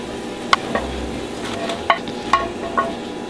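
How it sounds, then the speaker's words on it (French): Fresh homemade pasta stirred in a pot of boiling salted water with a splash of olive oil, giving a steady bubbling hiss broken by a few sharp clinks of the utensil against the pot. "Et je mélange."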